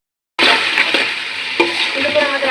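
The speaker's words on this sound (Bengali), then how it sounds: "সুন্দর করে আমাদের আদা রসুনটা কষানো হয়ে গেছে" Ginger and garlic paste frying in a pan with salt and a little water, a loud close sizzle that starts abruptly and holds steady, with a couple of stirring knocks.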